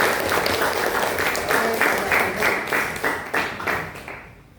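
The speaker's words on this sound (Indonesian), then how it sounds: "Kita beri tepuk tangan dulu." A classroom audience applauds after a group presentation, with many hands clapping in a lively, slightly uneven rhythm for several seconds before the sound fades out, close and fairly loud.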